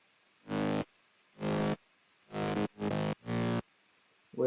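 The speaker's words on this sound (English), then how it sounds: "which is kind of a detuned saw wave" Five thick, buzzy detuned saw-wave synth bass notes, each sustained about a third of a second, with short gaps and a faint background hum between them.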